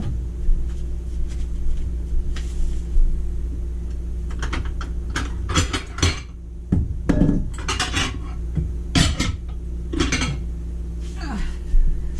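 A bowl being pulled out among dishes in a kitchen, with a run of sharp ceramic clinks and clatters over a low steady hum, loud and close, and a person's voice briefly in between.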